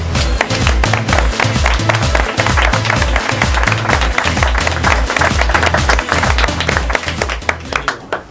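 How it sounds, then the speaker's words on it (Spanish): A loud, dense burst of audience applause at a Spanish book presentation by Niram Art Editorial, steady for the whole stretch over a thumping, rhythmic low background. "para romper un poco el hielo pediría un sonoro aplauso para él."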